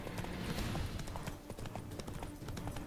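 A horse gallops in The Witcher 3 video game, its hooves giving a steady, rapid clip-clop that runs continuously and moderately loud over dense game background sound.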